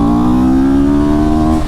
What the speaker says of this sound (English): Now I'm going to shift it down and then full throttle at high revs.